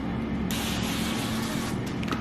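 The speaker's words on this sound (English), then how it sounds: "just spray it with avocado oil, just a little" Avocado oil is sprayed from a spray bottle onto seasoned food before air frying: a sudden, close, fine hissing spray that starts after a brief pause and runs for under two seconds.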